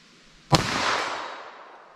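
Single sharp pistol shot firing Norma NXD .380 ACP or 9mm defense ammunition outdoors, a loud crack followed by a long fading echo, with no voices.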